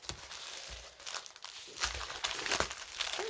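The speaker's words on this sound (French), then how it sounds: "Un coup de ciseau. Alors, bon, enveloppe à bulle." A padded bubble envelope being snipped open with scissors and handled, producing close, busy crinkling and rustling of plastic and paper with a few sharper crackles, fairly quiet and without speech.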